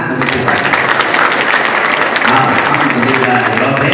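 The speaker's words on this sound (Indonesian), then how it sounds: "Tepuk tangan untuk saya." Loud, dense clapping from an audience at a West Java police (Polda Jabar) religious gathering with sholawat singing, sustained evenly for several seconds and close to the microphone.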